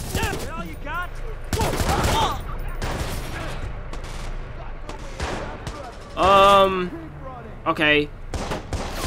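Gunfire in the video game Watch Dogs, with scattered bursts of shots between stretches of talking, plus an electronic tone near the end. A single spoken word is heard.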